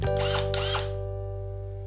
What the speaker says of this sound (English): I can use a drill.